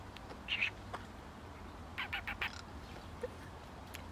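A bird calling with nasal, duck-like quacks, a short pair of calls followed by a quick run of four or five quacks over steady outdoor background noise.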